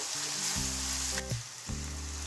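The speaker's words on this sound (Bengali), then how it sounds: "আদা রসুনের পেস্টটাকে আমি একটু ভেজে নিচ্ছি" Ginger garlic paste frying in a pan for a rohu fish head curry makes a constant close sizzle and hiss, with a low tonal hum running steadily beneath it.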